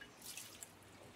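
Water runs over figs being rinsed in a kitchen sink, a steady soft trickle with faint dripping throughout, fairly quiet and alone.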